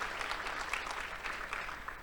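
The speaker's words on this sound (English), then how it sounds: "please let's give her a big round of applause" A round of audience applause at an academic conference keynote, steady, fairly dense clapping from a mid-sized crowd at moderate distance.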